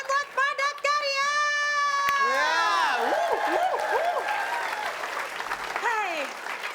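A studio audience on an Indonesian comedy show bursts into steady clapping and cheering, with shrill whoops and sliding vocal cries riding over the applause for most of the moment.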